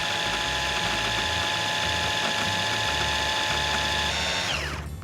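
A blender blitzes ingredients for an Aussie barbecue dish in a steady, loud mechanical whir. It holds at one level for about four seconds, then winds down as it is switched off.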